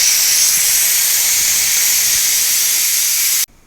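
Loud, steady hiss of steam venting from a Ninja Foodi pressure cooker during pressure release, continuous and close for over three seconds before cutting off abruptly.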